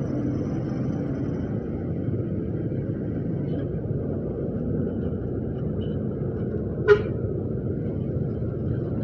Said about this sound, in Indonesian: Dari Singosari ramai macet guys jam segini